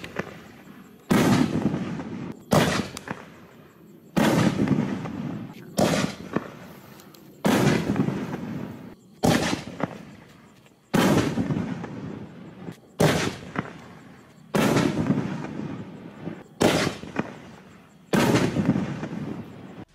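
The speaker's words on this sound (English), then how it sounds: "show you Nishiki Blast from Raccoon Fireworks" Nishiki Blast firework shells from Raccoon Fireworks boom in a rapid series of about eleven loud bursts, each a sharp thump followed by a brief crackling tail, with short gaps between them.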